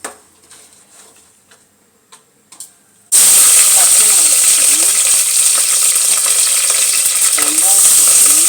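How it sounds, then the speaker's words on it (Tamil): Cinnamon, cloves and bay leaf drop into hot oil for tomato rice, and after a few quiet clicks a loud, sudden sizzle breaks out and hisses steadily up close. "இதெல்லாம் போட்டு ஒரு தக்காளி சாதம் செய்ய போகிறோம். இங்கே பாருங்கள், எண்ணெய் ஊற்றியாச்சு."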